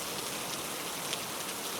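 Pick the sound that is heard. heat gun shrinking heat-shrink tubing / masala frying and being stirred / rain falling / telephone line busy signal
rain falling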